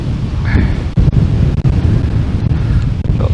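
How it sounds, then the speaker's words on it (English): Strong gusty wind buffets the microphone outdoors during a UK metal detecting outing, a loud low rumble filling the whole clip with brief dips between gusts. "I do apologise about this wind. It is absolutely crazy today, this wind."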